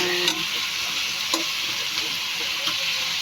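Pakbet vegetables with oyster sauce stir-fried in a pan, a steady loud sizzle with a few sharp scraping strokes of the spatula and no talking.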